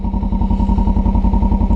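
A motorcycle engine idles close by, its exhaust putting out a steady, even rhythmic thumping pulse with a low mechanical clatter.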